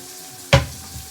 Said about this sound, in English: now that the onions have started to saute, we're going to add our garlic